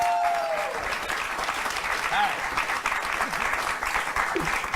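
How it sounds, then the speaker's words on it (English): A television studio audience breaks into applause and some cheering, steady clapping with a few faint voices and whoops mixed underneath. "Audience, applaud for that."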